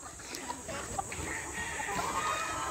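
Red and white Kelso roosters give faint, scattered clucks in a quiet farmyard with a soft background hum.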